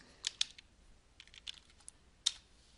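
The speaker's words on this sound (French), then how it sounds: "Donc je vais taper foie gras." Soft keystrokes on a computer keyboard as a French food name is typed, a few quick clicks, then a scattered run of taps and one final sharp press, heard close and quiet.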